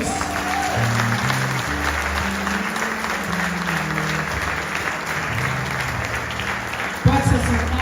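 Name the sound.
congregation applauding in church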